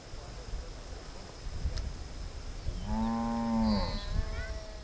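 A cow moos once, a long, loud, droning call near the end, on a rural hillside farm in a remote Colombian cable-car village, with quiet outdoor ambience and faint insect buzz before it.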